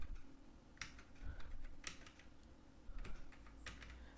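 Sparse keys clack on a computer keyboard as a mobile number is entered, a few quick clusters of clicks separated by pauses, faint and close over low background noise.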